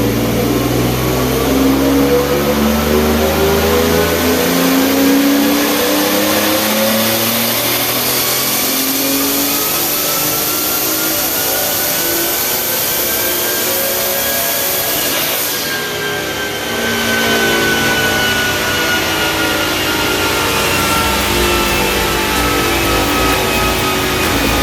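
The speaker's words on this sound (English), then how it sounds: "this is the last pull I just did" Turbocharged 3.7L V6 in a Mustang convertible Shelby clone revving hard on a dyno pull, running at 8 to 9 PSI boost: a loud, continuous engine roar that climbs steadily in pitch for about fifteen seconds, then eases off and settles.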